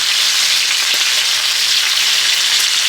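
A chuck roast burger patty sizzles loudly and steadily in a pan, a dense continuous crackling hiss close up with no voices.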